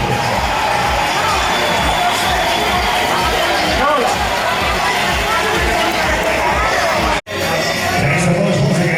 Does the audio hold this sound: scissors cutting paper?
no